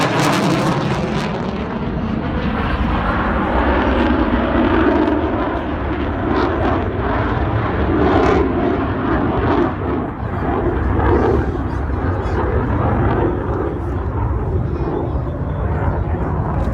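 A SAAB Gripen fighter jet accelerates at an air force air show at Swartkops, a continuous loud, broad jet roar that holds steady throughout with faint crowd and commentary blended underneath.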